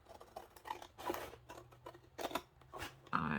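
Scissors snip through collage masterboard paper, cutting junk journal cards of different sizes in a run of close, crisp, irregular cuts with brief rustles between.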